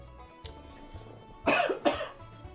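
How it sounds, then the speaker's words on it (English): A narrator's cough during commentary on an AI-only strategy game campaign: two loud, harsh bursts close together, near and dry, with faint background music and no speech in between. "that cough snuck up on me"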